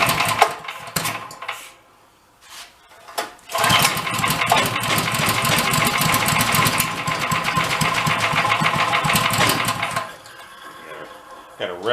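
An old engine with a knocking fault, choke on, coughs briefly, then catches and runs loud and steady for about six seconds with a fast, rough pulsing beat while being revved, before dropping back to a lower idle.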